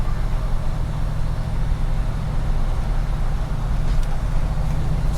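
A restored 1971 Ford Mustang Mach 1 with a 351ci Ram Air V8 rolls over big road bumps, its steady low engine drone and road rumble filling the cabin, loud and continuous with no talk.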